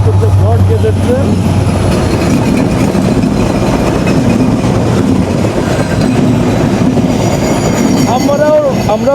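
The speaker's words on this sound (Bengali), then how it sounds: "আমাদেরকে থ্রু পাস যাচ্ছে আপ রূপসা এক্সপ্রেস" The Up Rupsha Express passes close by on broad gauge track, heard from aboard another train: a loud, continuous rolling roar with rhythmic wheel clatter and high metallic squeals rising near the end.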